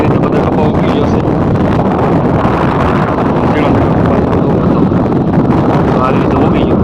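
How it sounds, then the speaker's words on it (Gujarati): Strong wind buffeting the microphone in an open farm field of sprouted crops, a loud continuous low rumble that never lets up, masking other sounds. "બહાર છે પવન એટલે બહુ અવાજ"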